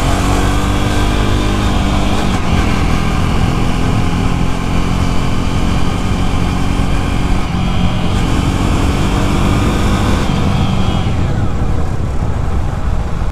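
A BS6 Jawa motorcycle accelerates hard through the gears, its engine roaring loud and steady with wind rush, pitch climbing and dropping at each shift.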